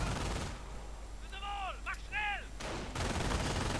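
Sustained bursts of gunfire from a Company of Heroes battle between Grenadiers and Riflemen armed with BARs, loud at the start and again at the end, with high chirping tones in between.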